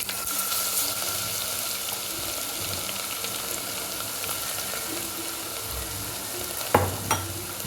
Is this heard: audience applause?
no